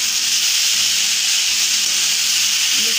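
Okra (bhindi) fries in a pan, giving a steady, loud, close sizzle with an even hiss that carries on unbroken throughout.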